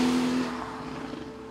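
Porsche 911 driving on an Alpine road in Switzerland, its engine note passing with a steady tone that fades away over a second and a half.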